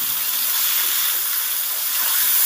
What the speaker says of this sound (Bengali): সব উচ্ছেগুলো কড়াইতে দিয়ে দিলাম